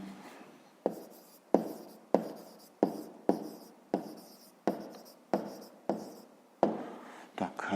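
Pen strokes on paper as an answer is written out by hand for a fifth-grade math exercise, a series of about ten short, crisp scratching bursts with brief pauses between them, close and quiet.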